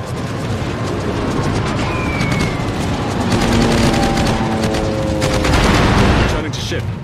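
Sustained video game gunfire in Arms Race mode, dense bursts and rattling volleys close and loud throughout, with a continuous battle din underneath.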